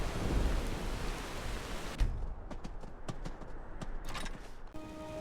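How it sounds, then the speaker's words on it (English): Steady rain in Skyrim falls as a continuous hiss with low rumbling beneath, the texture thinning partway through while scattered sharp clicks and taps punctuate it. "And it's raining."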